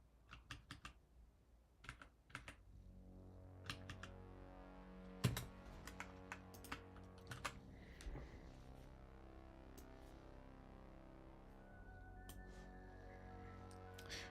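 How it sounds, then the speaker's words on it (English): Computer keyboard clacks under a steady low hum, irregular bursts of keystrokes spaced out over a quiet background, faint and close. "Oh, Danish says your keyboard is good. Do you mean the sound of it"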